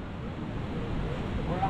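Wind buffets an outdoor microphone with a steady low rumble during a cooking gathering in Casapsapan, continuous and moderately loud, with speech faint underneath.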